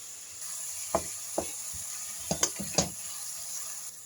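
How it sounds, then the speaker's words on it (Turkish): Onions and peppers sizzle quietly in a pan while a utensil stirs them, with a handful of sharp scraping taps over a steady hiss. "Şöyle soğanı ve biberleri biraz kavurduktan sonra üzerine kıymayı ekliyorum."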